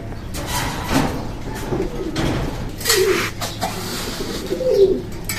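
Soft cooing of Red Checker Racer Homer pigeons repeats through the clip amid a muffled, busy background, with a few louder bursts near the end.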